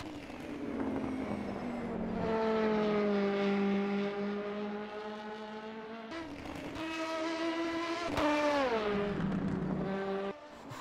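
A race car engine in the rFactor 2 sim holds a loud, steady drone, then revs rise and fall through gear changes and a sharp downshift near the end, with no talking.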